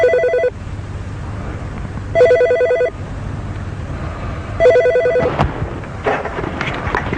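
A telephone rings in a house in three evenly spaced double trills, loud and close over low background rumble, with no one talking.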